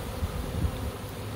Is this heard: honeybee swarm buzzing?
yes